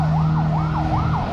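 An ambulance siren wails in loud, repeating rising-and-falling sweeps, close by and steady, with engine rumble underneath.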